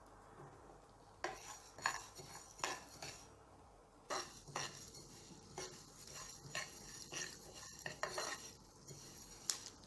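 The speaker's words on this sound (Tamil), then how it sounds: "நம்ம கொள்ளுப்பருப்போடவே சீரகம், மிளகு, மல்லி, வெந்தயம் எல்லாத்தையும் ஒன்றா போட்டு நம்ம வறுத்துடலாம்." A spoon stirs and scrapes a pan while horse gram with cumin, pepper, coriander and fenugreek dry-roasts, giving faint, intermittent metallic scraping and light clinks.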